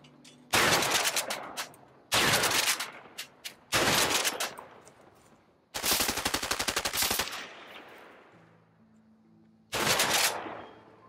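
Bursts of automatic gunfire from the video game A Way Out: rapid loud volleys in five separate clusters, the longest a sustained rattling spray, with short gaps of quiet between them and no talking.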